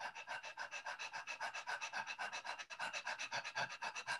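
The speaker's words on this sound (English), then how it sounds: "you can breathe fast and shallow. If the feeling is really unpleasant, you could try breathing really fast." Fast, shallow breathwork breathing in the Vivation style: a steady, rapid run of rhythmic in-and-out breaths, close and fairly soft, with no talking.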